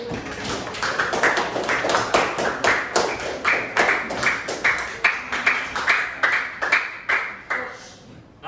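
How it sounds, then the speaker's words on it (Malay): Students in a classroom clap together in a rhythmic group pattern, a long run of sharp, evenly spaced claps close by and fairly loud, with no talking over them. "Bagi tepukan"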